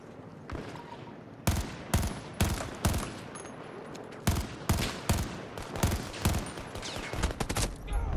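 Gunshots in Battlefield 2042 crack out in loud, sharp bursts and single shots, spaced irregularly with short rapid strings, close and prominent over low game ambience.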